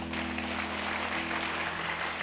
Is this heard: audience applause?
yes